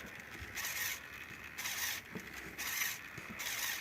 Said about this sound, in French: On entend peut-être un petit peu le moteur qui grince